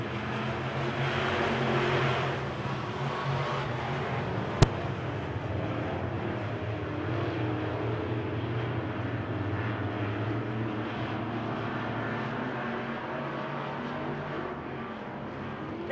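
Race cars roar around the oval at Victory Lane Speedway during a Friday night race, a steady, loud, droning engine blend that swells briefly early on and holds without any talk.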